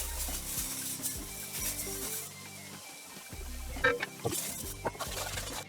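Rice frying and being stirred in a pot with garlic, ginger and two habaneros. A gentle sizzle sits under scraping stirs and a few sharper clinks, with a low steady hum underneath.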